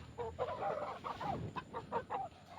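Country chickens on a farm give a quick run of short, close clucks in an uneven rhythm with small pauses between the calls.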